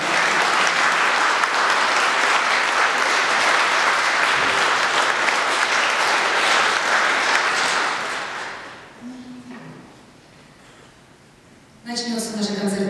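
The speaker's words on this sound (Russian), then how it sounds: "Встречаем аплодисменты." Warm, sustained audience applause fills a concert hall at an organ recital before fading to near quiet; a voice begins speaking at the end.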